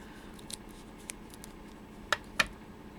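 Two crisp scissor snips through a Dollar Tree pad strip, close and fairly loud against a quiet room, with a couple of faint ticks of handling before them.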